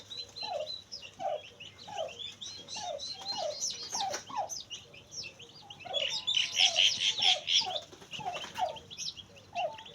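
Twenty-two turkey chicks peep and chirp in repeated high calls, a busy chorus nearby that swells louder partway through.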